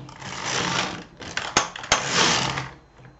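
An LK 150 knitting machine carriage is pushed across in rows, a close whirring rasp that swells and fades with each pass, broken by a couple of sharp clacks in the middle.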